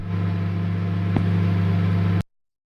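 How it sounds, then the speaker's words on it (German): A microwave oven hums steadily in the horror game The Convenience Store, a loud constant electrical drone with one brief click in the middle before it cuts off abruptly. "Mikrowelle lief doch."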